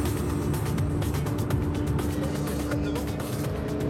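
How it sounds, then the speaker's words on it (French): A car speeding illegally on a motorway gives a dense, continuous roar of engine and road noise close by, with a voice talking over it. "Il accélère dangereusement jusqu'à atteindre les 200 km/h sur cette portion d'autoroute limitée à 110."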